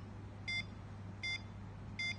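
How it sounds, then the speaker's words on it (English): Three short electronic beeps from a Tobbie II micro:bit DIY robot kit at an even, fairly quick pace, each a clean high tone over a low steady hum. "So you can see Tobbie 2 beeps at a faster rate."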